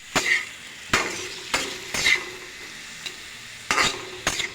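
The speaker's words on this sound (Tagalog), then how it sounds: "Bawang sibuyas po na ilagay ko na. Ilagay naman po natin ang kamatis." Garlic and onion sautéing in a pan as tomatoes go in, with a low sizzle punctuated by a series of sharp spatula scrapes and clinks against the pan at irregular intervals, close and without talking.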